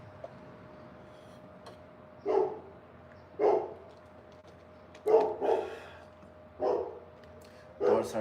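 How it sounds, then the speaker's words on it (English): Dogs bark several times at a distance, isolated single and double barks spaced a second or so apart over a quiet outdoor background. "Dogs are barking."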